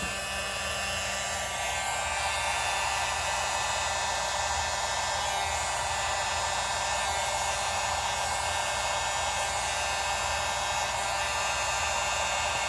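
A hair dryer blows on wet acrylic pour paint to spread a bloom in fluid art, giving a steady, loud, continuous whoosh with no pauses and no talking.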